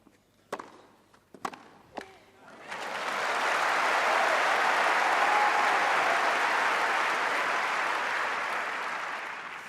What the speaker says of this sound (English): We can hear the crowd urging Paolini on.